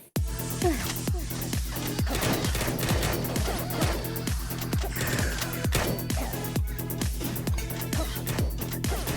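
Continuous gunfire from the video game Synchrony rattles in steady rapid bursts over a rhythmic game soundtrack, dense and close with no break.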